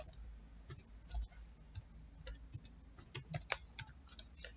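Keys clatter on a computer keyboard as a short Django terminal command is typed, a run of close, light clicks in uneven bursts that grow busier toward the end, with no voices.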